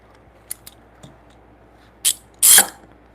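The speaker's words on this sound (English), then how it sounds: "I'm putting a clamp down here on this end" A clamp is tightened down on a timber frame bunk bed in a quiet woodworking shop, with a few faint ticks followed by two louder, close ratcheting bursts.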